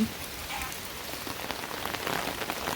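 Rain falls steadily on surfaces in Ban Nong Louang village, Paksong, Laos, a soft, even patter of drops continuing throughout without voices.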